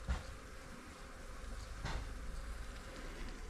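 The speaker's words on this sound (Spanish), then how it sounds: "Son abejas, pero están metidas en la pared. Se escucha el zumbido." Bees buzz inside a house wall in Dolores Hidalgo, Mexico: a steady, low, continuous drone with faint outdoor background noise and no talk.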